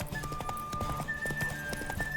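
Hooves clip-clop steadily at a walking pace in a video game, with a sustained melodic tone running through and faint voice underneath.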